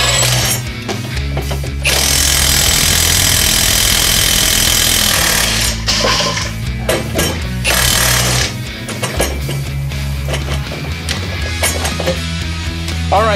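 A Ryobi high-torque impact wrench hammers a bolt tight in loud, close bursts of rapid rattling impacts, broken by short pauses between runs, with no talking.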